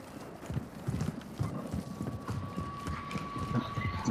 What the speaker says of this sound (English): I hear footsteps right on us.